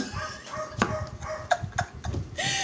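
A dog barks in short repeated yaps and whimpers at close range, several quick bursts over a steady background hum.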